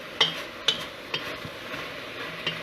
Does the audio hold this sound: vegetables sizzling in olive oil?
yes